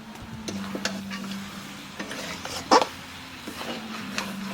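Butter goes into a pot of cooking mutton curry, bringing a soft, close sizzle with scattered scraping stirs and one sharper clatter near the middle, all at a quiet level.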